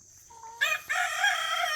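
A backyard rooster crows once near a compost pile, loud and close, after a few soft clucks from the chickens, with no voices.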